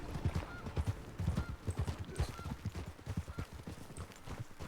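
A horse walks at a steady pace, its hooves giving a close, rhythmic clip-clop that repeats through the whole moment.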